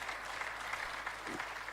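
Audience applause in a live broadcast studio, a steady ripple of many hands clapping at moderate distance that continues for the full clip without speech.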